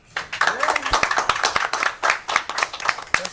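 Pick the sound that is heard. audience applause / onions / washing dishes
audience applause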